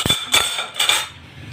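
A spoon clinks and scrapes against a pot while turmeric is stirred into chicken feet broth, three or four short metallic knocks close by, then quieter, without speech.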